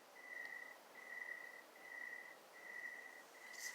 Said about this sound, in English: I just want to see if you can hear the crickets